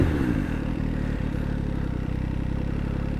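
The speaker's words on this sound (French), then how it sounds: "Launch control, il n'y en a plus que 2, j'embraye, première." A MV Agusta Dragster 800 RR motorcycle idles loud and close at a launch control start, its rough engine throbbing with a steady rattling pulse throughout.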